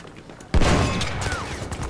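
A sudden burst of rapid gunfire in a multiplayer shooter game, a loud onset followed by a dense, echoing volley of shots that continues for about a second and a half.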